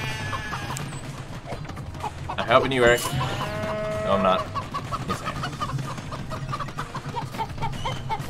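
Chickens cluck and squawk in a bursty flurry, loudest near the middle, while several people talk and argue over the noise during a backyard chicken roundup.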